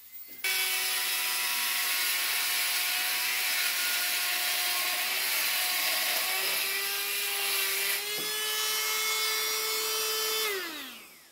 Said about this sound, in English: I'm using my Works multi-tool here